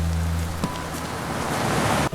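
Cold rain falls on a city street as a steady, loud wash of dense noise filling the whole span, with a brief low hum early on.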